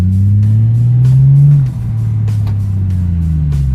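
A Toyota Supra pulls away from first gear, its engine droning loud and close with pitch rising steadily, a brief dip as the gear changes, then climbing again under road rumble.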